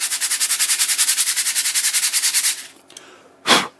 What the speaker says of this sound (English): rub it on your sanding block